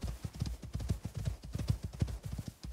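Llama hooves clip-clopping in the survival game Icarus: New Frontiers, a steady run of close, punchy hoof strikes with no talk over them.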